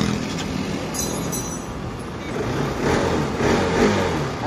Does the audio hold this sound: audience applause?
no